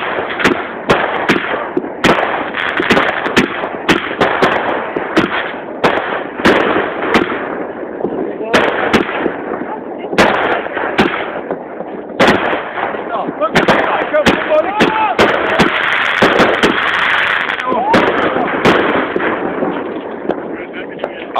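A big multi-shot fireworks battery goes off on New Year's Eve, firing sharp bangs and crackles in rapid, irregular succession for about twenty seconds while people talk nearby.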